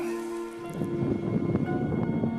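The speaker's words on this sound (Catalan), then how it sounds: "Va, que ja plou." Rain falls on an open mountain ridge at Collet Raset near Penyes Altes, a steady close patter with wind-like hiss throughout.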